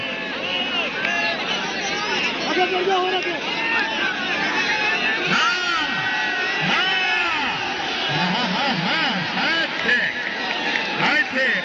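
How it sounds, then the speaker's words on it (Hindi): A crowd at a kabaddi match between two clubs cheers and claps steadily, a dense roar of voices and whoops throughout, with an announcer's voice heard over the noise. "जोरदार तालियां"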